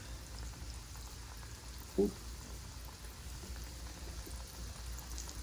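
Squash and zucchini frying in hot oil on a stovetop make a faint, continuous bubbling sizzle, broken once by a brief spoken exclamation.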